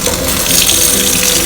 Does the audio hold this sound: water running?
yes